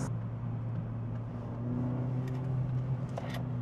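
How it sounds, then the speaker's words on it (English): A Honda Fit engine pulls hard in second gear, giving a steady, droning hum from inside the cabin that holds fairly constant throughout with no talking. "Let's do a second gear pull here."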